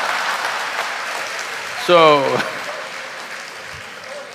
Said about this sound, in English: I'm clearly noticing who is clapping and who is not